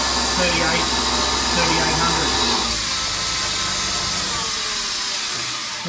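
A TM20 G0704 benchtop milling machine with a belt drive upgrade runs at high spindle speed, giving a steady, loud whine and whir that holds throughout, with a slight shift in pitch partway through.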